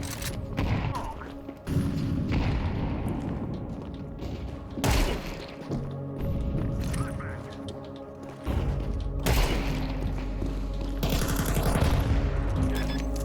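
Gunfire in the video game CS2: dense bursts of shots and thumps throughout, loud and continuous, mixed with game sounds and occasional talk.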